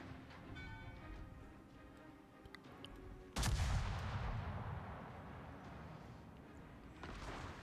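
A single loud gunshot bursts out in a war video game, a sharp crack that rolls off into a decaying rumble, set against quiet ticking game ambience and a later softer thump.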